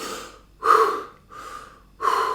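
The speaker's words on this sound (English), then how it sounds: "First you do 5 recovery breaths," Deep recovery breaths after a breath hold, alternating strong inhales and softer exhales in a slow rhythm, close and loud with no talking.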